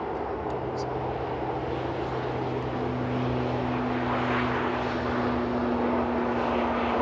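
A propeller airliner at Manchester Airport, heard as a steady, broad drone with a low hum that stays fairly constant throughout, and a voice speaking over it.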